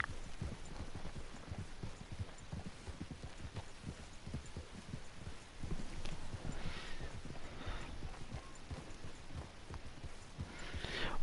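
Horse hooves clip-clop at a steady walking rhythm in Red Dead Redemption 2, a continuous close beat of soft thuds running throughout with no talk.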